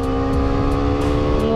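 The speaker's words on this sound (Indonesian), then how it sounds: "Geber-geber dikit lah. Mumpung kenal pot standar." Kawasaki Z800 motorcycle with an 800 cc engine and stock exhaust revving hard, a loud, close, sustained engine roar with a steady tonal drone throughout the short burst.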